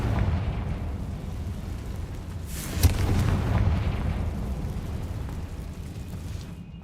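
A Confringo explosion spell goes off in Hogwarts Legacy, a deep rumbling boom with one sharp crack near the middle that fades into a low roar, with no talk over it.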